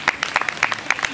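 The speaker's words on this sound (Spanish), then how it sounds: "Aplauso para Damián desde Taquete" A brief burst of crowd clapping at a live Latin music show, applauding a named audience member; uneven claps close together over about a second.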